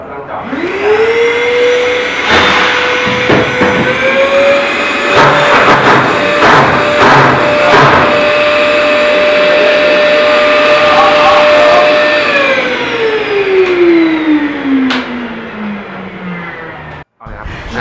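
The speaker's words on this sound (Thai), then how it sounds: "ก็ต้องนะครับใช้เครื่องดูดฝุ่นนะครับเจาะ" A vacuum cleaner running loud and close during a drilling job for an air conditioner installation, a steady whine that rises at the start and winds down at the end, with knocks and brief voices mixed in.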